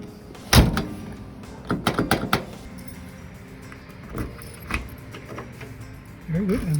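A key working the lock of a 1974 VW Super Beetle convertible door, with metallic clicks and jangles, one sharp clack near the start and smaller knocks after. A brief voice is audible at the end.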